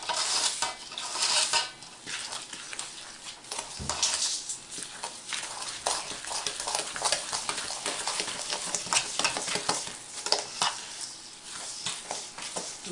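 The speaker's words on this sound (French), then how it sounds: "Et on remue." Gingerbread mixture for a gingerbread house being stirred in a pot, a busy run of close scraping and sloshing strokes with light sizzling, steady and moderately loud, no voices.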